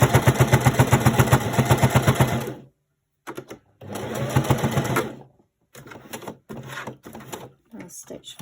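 Sewing machine stitching down the pleats of a fabric face mask, with rapid rhythmic needle clatter in long runs broken by short stops and restarts, close and loud, under a voice talking.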